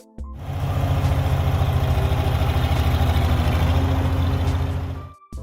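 A six-cylinder, 310-cubic-inch diesel tractor engine idles close by with a steady, throbbing low rumble, starting up sharply and cutting off near the end.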